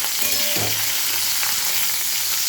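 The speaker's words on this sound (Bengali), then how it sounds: "ডাঁটাগুলো দিয়ে একটু ভাজবো" Drumstick stalks sizzling in hot mustard oil in a kadai, a steady dense crackle and hiss close up, with a brief clatter of stirring early on.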